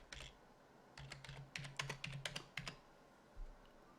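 A password is typed on a computer keyboard during a Raspberry Pi setup, a quiet, close run of a dozen or so quick key clicks in an uneven rhythm before a short pause and one final press.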